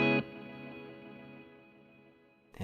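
A Meris Mercury X pedal's reverb trails off as a smooth, washed-out tail after a brief note, fading slowly over a couple of seconds before another note cuts in at the end; no one talks.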